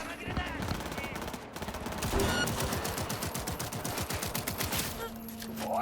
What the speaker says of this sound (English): you just heard that gunshot, I just heard that gunshot